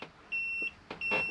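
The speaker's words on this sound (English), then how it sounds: "So it's not just beeping, just telling where the doors are open." A caravan fridge door-open alarm sounds in the Bessacarr 572 motorhome, two short steady electronic beeps in quick succession, close and clear.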